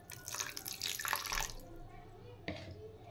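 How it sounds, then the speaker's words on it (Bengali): Water is poured into a bowl of rice paste while cooking, a splashing trickle over about a second and a half and then a brief second pour, faint and close, with some speech. "এবার এখানে আমি দিয়ে দেব পরিমাণ মতো জল।"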